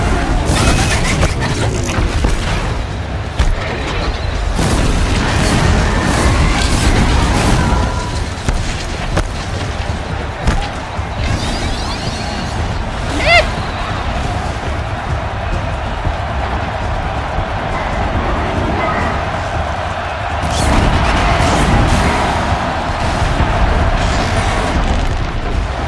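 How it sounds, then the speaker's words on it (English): A corrupted machine in Horizon Zero Dawn hurls rocks in combat, heavy booming impacts and rumbling blasts rolling continuously for nearly half a minute, loud and dense with layered game noise. "it's shooting rocks at me now"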